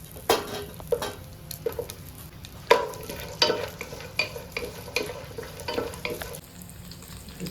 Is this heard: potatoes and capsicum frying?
yes